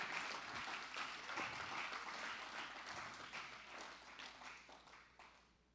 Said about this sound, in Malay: Beri tepukan kepada Tuhan.